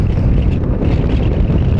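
Loud, steady wind buffets a helmet with all its vents closed while riding an Aveta Nova 250 scooter, a continuous close roar with no break.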